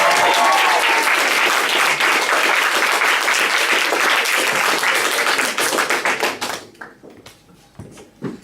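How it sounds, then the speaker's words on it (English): A comedy audience claps loudly and densely for a comedian, the applause holding steady for several seconds before thinning into scattered claps and fading out. "please give me a huge, huge round of applause because he's absolutely amazing"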